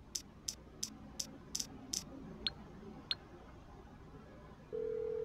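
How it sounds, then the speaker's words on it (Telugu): A phone call dialed in the video game GTA V: six quick, evenly spaced keypad beeps, two further tones, then a steady ringing tone begins. "అర్జెంట్గా మనం ఫ్రాంక్లిన్కి ఫోన్ చేసి చెప్పాలన్నమాట"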